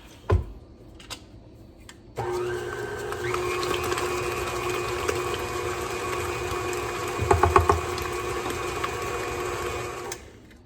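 An electric mixer whirs steadily through snickerdoodle cookie dough after eggs go in, starting with a click and holding a loud, even motor hum for about eight seconds before stopping, with a few clatters midway.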